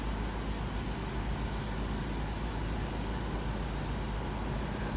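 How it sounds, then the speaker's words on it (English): A truck idles high in a parking lot, a constant low rumbling engine drone with broadband road-like noise, steady and unbroken throughout, fairly close, with no talking. "Now we'll have to listen to that fucking truck idle high"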